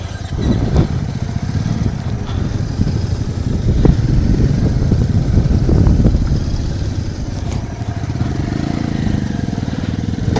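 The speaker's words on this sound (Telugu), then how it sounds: "ఇప్పుడు ఈ లారీలు వెళ్తున్నాయి కదా, ఇవన్నీ ట్రక్స్, పెద్ద పెద్ద ట్రక్కులు" Heavy trucks rumble past on a mountain road on the Manali to Sarchu route, a continuous loud low engine drone with motorcycle engine noise mixed in, rising and falling slightly as the vehicles go by.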